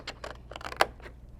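Scissors snip through the paper tabs of a handmade custom-sized gift box: a few close, crisp cuts in just over a second, with one sharp snip louder than the rest.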